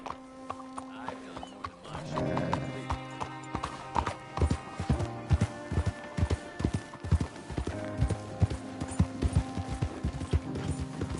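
Horse hooves clip-clopping at a steady, brisk rhythm over a layered ambient music bed, with faint voices in the background, in the video game Red Dead Redemption 2.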